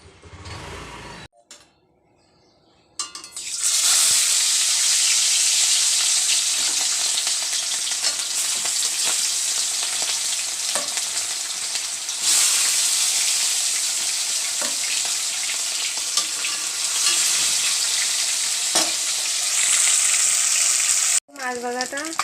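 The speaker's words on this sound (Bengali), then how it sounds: "এই মাছগুলো এখন ভাজবো।" Fish frying in hot oil gives a loud, steady crackling sizzle that starts after a few quiet seconds and runs unbroken for most of the stretch before cutting off abruptly near the end.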